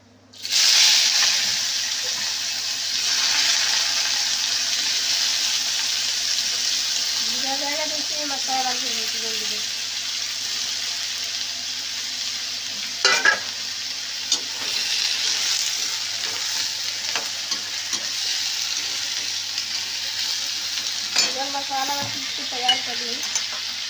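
Potato and eggplant frying in a pan, a steady broad sizzle with occasional scraping stirs, moderately close, continuing alone for a long stretch.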